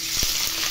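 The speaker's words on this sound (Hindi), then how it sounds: "अभी हम लोग पनीर इसमें गर्म ऑयल में ऐड कर देंगे" Paneer dropped into hot oil sets off a brief, dense sizzle with a soft thud at the start, heard close and alone.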